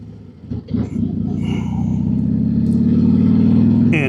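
A motor trike rumbles as it is ridden, a loud, deep engine drone that swells and holds steady. Someone talks over it.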